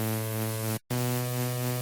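A looped synth note drones steadily with effects applied, its dense harmonic tone briefly cutting out once mid-way before resuming at an even level; no voices.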